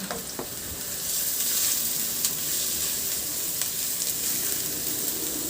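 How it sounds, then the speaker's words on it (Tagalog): Garlic and ginger sauté in a hot frying pan for a shrimp sarciado dish, making a steady, close sizzle that swells after a moment, with a few faint clicks of stirring and no voices. "Sa disim na kawali, igisa ko na yung bawang. Maglagay na rin ako ng luya."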